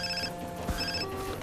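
An incoming call ringing on a phone in Far Cry 3, a moderately loud electronic ringtone of sustained tones over a game background, with no one speaking.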